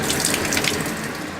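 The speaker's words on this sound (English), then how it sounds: "Now what I'm just going to do is quickly rinse this with cold water" Cold tap water runs steadily from a kitchen faucet over fish being rinsed in the sink, a loud, close, continuous splashing rush with no voices.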